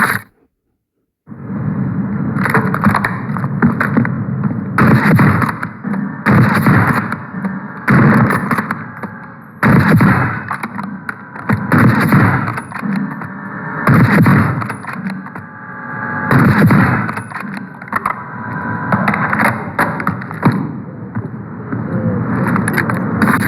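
In Black Ops 6, an LW3 Frostline sniper rifle fires loud, sharp shots one to two seconds apart, each cracking out over a rumbling background of in-game noise.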